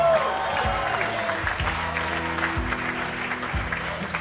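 A comedy club crowd in Chicago applauds as comedian Adam Burke is brought to the stage, a dense, steady clapping wash that lasts throughout, with a few louder thumps under it.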